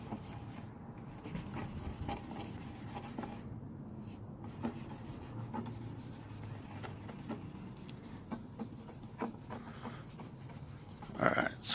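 Toothpaste is rubbed onto a car headlight, producing quiet, steady scrubbing and rubbing strokes close by with a few small taps, faint and continuous throughout.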